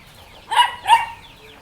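A rooster offered for sale gives two short, close clucks in quick succession, then quiet background.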